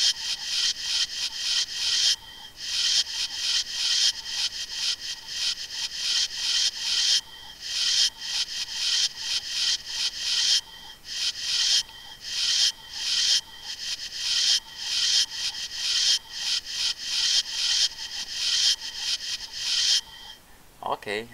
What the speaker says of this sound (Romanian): Haideți să facem sunetul acesta puțin mai mic, parcă sunetul de ștergere.